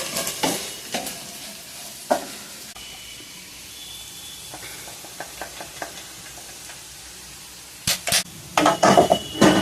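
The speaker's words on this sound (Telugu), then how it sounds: "దొండకాయ వేగిందండి మనం ఇక తయారు చేసిన కారం కూడా వేసుకుందామండి" Ivy gourd (tindora) frying in a pan, a low, steady sizzle broken by scattered clinks and scrapes of stirring that grow busier and louder toward the end.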